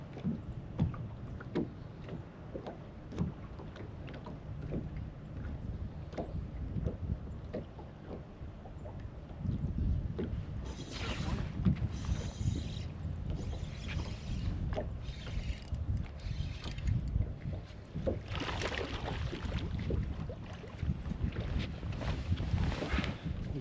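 A bass fishing boat makes a fast run down a lake in winter, giving a steady low rumble of engine and hull mixed with rushing wind buffeting the microphone, growing louder toward the end.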